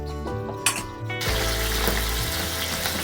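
Pabda fish slide into hot oil, setting off a loud, continuous sizzle that swells after a brief clatter and keeps crackling steadily up close, with no talk over it.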